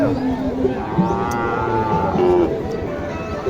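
Several cattle moo and low at a cattle market in Naogaon, over a busy background murmur of people, the calls overlapping at close to moderate distance.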